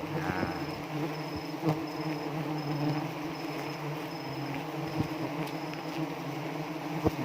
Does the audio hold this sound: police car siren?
no